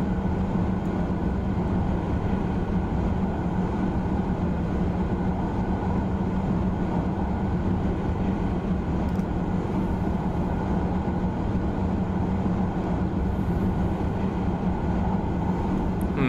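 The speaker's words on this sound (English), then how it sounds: "this train accelerates really fast" A steady, continuous rumbling drone of a TGV Duplex high-speed train running at speed in Train Simulator 2016, constant and unbroken throughout with no voices.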